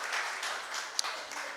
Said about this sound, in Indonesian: Berikan tepuk tangan untuk Tuhan Yesus.